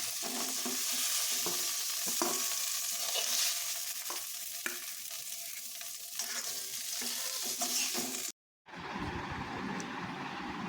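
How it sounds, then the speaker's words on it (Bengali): Mashed pumpkin is stirred and fried in a pan: a loud sizzle runs throughout, with repeated scraping spatula strokes and a brief silent break before the frying resumes. "এইটাতে আরও কিছুক্ষণ নাড়াচাড়া করে ভাজা ভাজা করে নিয়েছি"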